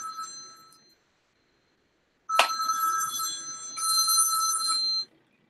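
A telephone rings loudly and close by, a bright electronic trill that begins abruptly after a quiet pause, shifts tone partway through and then cuts off.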